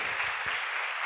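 A church congregation claps together in a brief, dense burst of applause, steady and even from start to finish.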